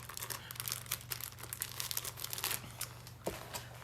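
A plastic bag being handled while packing an embroidery kit gives faint, close crinkling and crackling in quick irregular bursts over a low hum.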